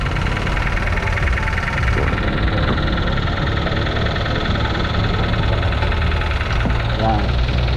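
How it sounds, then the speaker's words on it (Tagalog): A loud, rough Toyota Wigo engine idling steadily with a rattling, knocking undertone, running continuously up close, after water got into the air intake. "So ganyan yung ingay ng kanyang Toyota Wego guys"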